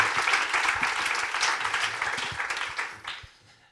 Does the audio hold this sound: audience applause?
yes